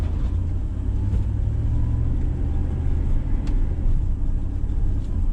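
A Tahoe with a rebuilt transmission driving on the road, giving a loud, steady low engine and road rumble from inside the cabin with no talking.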